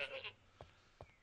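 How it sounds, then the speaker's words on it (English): A sheared sheep in the Dawncraft Minecraft video game gives a short, faint bleat at the start, followed by two soft game thuds, everything quiet and brief. "it's just a sheared sheep"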